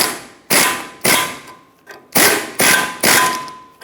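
Five or six sharp ratcheting bursts from a 15 mm socket snugging drag link clamps on a Ford E-350, each burst about half a second long with short gaps between them, loud and close.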